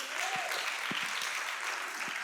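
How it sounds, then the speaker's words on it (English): A church congregation applauds itself in a steady wash of clapping that fills the whole stretch, with a faint voice or two rising briefly through it. "Come on, let's clap for ourselves."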